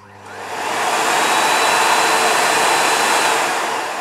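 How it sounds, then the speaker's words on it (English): Miele Complete C3 Comfort Boost Ecoline canister vacuum cleaner switched on with the manual button, its motor spinning up quickly to full power and then roaring steadily and loudly, close by, with no speech. "I've just noticed that pressing the manual button does switch the machine on here."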